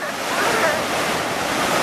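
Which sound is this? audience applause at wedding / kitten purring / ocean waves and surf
ocean waves and surf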